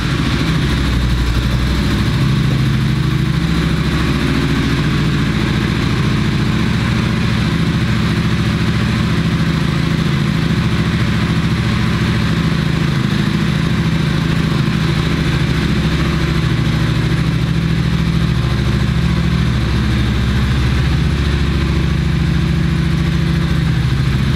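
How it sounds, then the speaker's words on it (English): A 2019 Honda Shadow Aero motorcycle engine runs steadily at idle, a loud, close, continuous low rumble with no talking over it. "Let's go ahead and fire it up and listen how it sounds."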